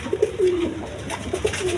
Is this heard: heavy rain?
no